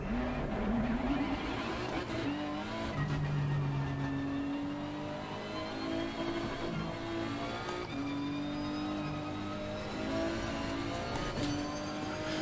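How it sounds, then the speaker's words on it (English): A steady engine drone rises and falls in pitch as it revs and shifts gears, continuous and fairly even with a whirring mechanical tone. "Turn on the car."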